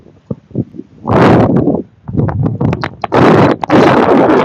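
Strong outdoor wind blasting into a phone microphone, heavy irregular gusts of rumbling buffeting that come and go in bursts, loud and close with no clear talk.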